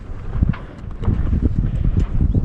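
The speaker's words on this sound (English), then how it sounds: "So we're just now finally getting a puff of wind." Wind gusting over a Shannon 28 sailboat under sail in light air, a steady low rushing buffet against the microphone with rumbling surges.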